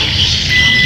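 A multimeter's continuity beeper sounds while probing the CDI socket wiring of a motorcycle, a steady high electronic tone held loud and unbroken for the whole moment with no talking.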